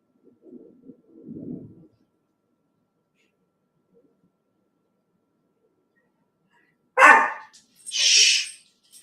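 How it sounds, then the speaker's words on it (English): A dog barks indoors in two short loud bursts near the end, after a stretch of quiet with a faint low voice murmuring early on. "The dog is going crazy."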